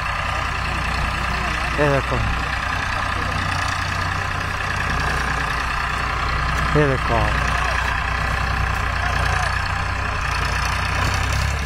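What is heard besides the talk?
Farmtrac 45 tractor engine pulling a trolley uphill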